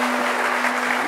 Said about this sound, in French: sous vos applaudissements, cher public.